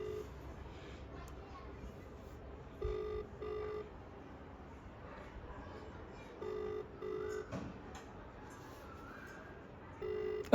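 Faint, repeated ringing-tone beeps sound in short bursts over quiet background noise, with soft talking in between.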